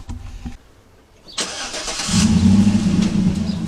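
A Chevy Bel Air with a 383 crate engine cranks and catches, then settles into a steady, loud rumbling idle close by.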